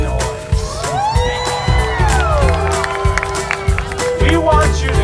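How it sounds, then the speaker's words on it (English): A symphony concert crowd cheers, whoops and claps loudly and continuously, close and dense, with shouting voices and whistles mixed into the roar. "Tonight, we want you to misbehave and make a lot of noise."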